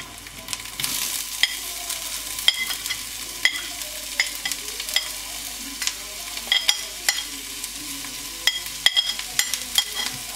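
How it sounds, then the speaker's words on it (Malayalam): Sliced onions sizzle steadily as they fry in a pan, with repeated clicks and scrapes of a spoon stirring them at close range, no talking over the cooking. "അപ്പം ഞാൻ സവാള ഇട്ട് കൊടുത്തു."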